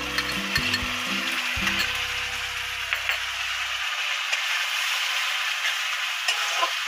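Ginger, garlic and green chilli paste hits frying onions for a Punjabi-style spinach dish, giving a loud, steady sizzle, while low clattering stirring knocks sound during the first few seconds and then stop.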